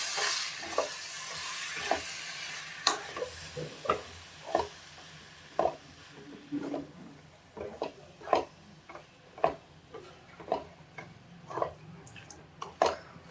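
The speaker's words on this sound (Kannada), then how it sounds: "ಸೇರಿಸಾದ್ಮೇಲೆ ಇದನ್ನು ಮಿಕ್ಸೆಡ್ ಮಾಡೋಣ" A spoon stirs a soaked avalakki (flattened rice) mixture in a pan, scraping the metal in repeated soft taps and swishes at an uneven, steady pace, close and fairly quiet.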